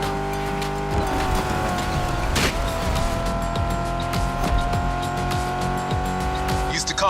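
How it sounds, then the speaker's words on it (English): Ford Mustang Shelby GT500 roaring in The Crew Motorfest racing game, steady engine drone with repeated tire squeals and a sharp skid burst, loud and continuous with a voice talking over it. "So the Mustang Shelby GT500 is a bit on the modern side"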